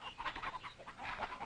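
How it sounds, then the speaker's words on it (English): Orpington hens clucking and chattering in short, irregular bursts, fairly close, with no talking. "My chickens. Oh, the Orpingtons,"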